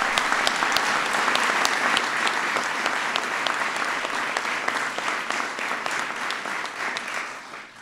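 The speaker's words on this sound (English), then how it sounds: "Please give him a big round of applause" A large audience gives hockey pioneer Willie O'Ree sustained applause at a White House event for the Pittsburgh Penguins, with dense, loud clapping and sharp individual claps close by, easing slightly near the end.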